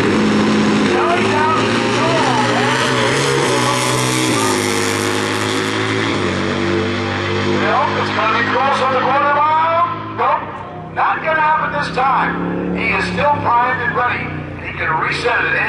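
A drag racing motorcycle makes a full run at an AHDRA event. Its engine note sweeps and rises steadily under continuous trackside commentary, then breaks into choppier bursts near the end.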